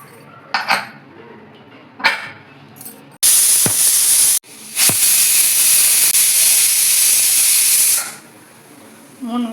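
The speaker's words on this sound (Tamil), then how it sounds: "இப்போ குக்கர் மூடி போட்டு 3 விசில் வச்சு எடுத்துக்கலாங்க." Pressure cooker on the stove cooking mushroom biryani, letting out a loud, steady hissing whistle of steam for about five seconds after a few clinks of the pot, then falling quiet.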